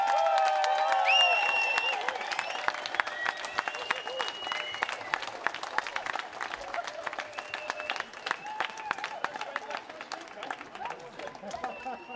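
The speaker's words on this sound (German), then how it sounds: "ganz großen Applaus." Audience applause at an evening open-air big band concert in Erfurt, a dense wash of clapping and crowd noise that stays loud throughout, with cheering and voices mixed in.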